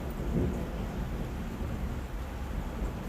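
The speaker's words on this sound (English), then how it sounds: "It is raining and lightning and thundering here" Thunderstorm in Overland Park, Kansas, heard as a steady, faint wash of rain with a low rumble of thunder underneath, with no voices.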